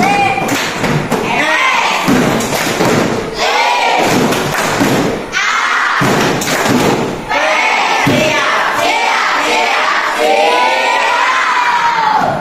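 A Grade 6 class doing the "tepuk siap" clapping chant, loud children's voices chanting and shouting together with bursts of clapping and thumps in a lively, echoing room.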